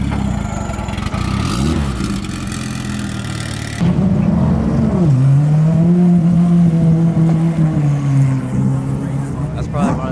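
Loud race car engines rumble and rev nearby at a motorsports event, the pitch rising and holding steady as the engine climbs, with a busy crowded background.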